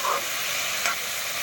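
Elephant apple (outenga) pieces coated with salt and turmeric sizzle steadily in a hot pan, a close, continuous frying hiss with a brief louder crackle partway through.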